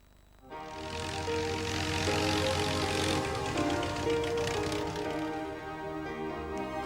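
Aircraft engine in a 1994 TV advert with rotor-wing aircraft, a loud propeller-like drone that swells up suddenly and holds steady before easing slightly toward the end, no talk over it.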